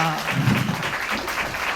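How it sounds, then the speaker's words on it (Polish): Applause from a children's concert audience, a short patter of clapping mixed with a voice speaking at the start, moderately loud and close. "Wielkie brawa!"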